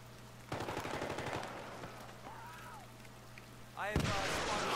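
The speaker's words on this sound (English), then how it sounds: "Getting shot at." Automatic gunfire in the Battlefield 3 video game: a rapid burst of close shots, then sparser pops and a sudden loud burst near the end, with faint talk in between.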